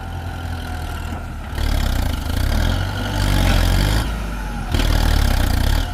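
A Kubota M108S tractor engine runs loud and close while straining to pry a buried tree stump from the ground, its steady diesel drone rising in heavier surges under load.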